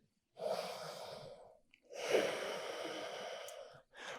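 Slow, long yoga breaths: a drawn-out nasal inhale, a pause, then a longer steady exhale, close and soft with a quiet room behind.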